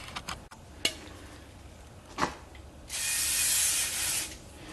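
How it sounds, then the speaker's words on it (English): Brake cleaner sprayed onto the rear brake rotor of a 2015 Jeep Wrangler: a few mechanical clicks and taps, then one loud, steady hiss of spray lasting over a second before it stops. "I'm going to have to wipe that off and hit it with some more brake cleaner."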